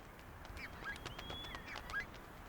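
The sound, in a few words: geese honking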